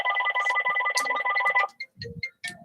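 A telephone rings with a repeated electronic warble, loud and close, for well over a second before cutting off, followed by faint scattered noises.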